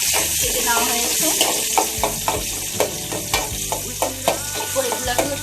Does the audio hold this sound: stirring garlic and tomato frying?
yes